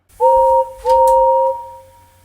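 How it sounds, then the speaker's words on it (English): Two clear whistle blasts, a short one then a longer one that trails off, loud and tonal like a steam engine whistle. "Presently he heard a whistle."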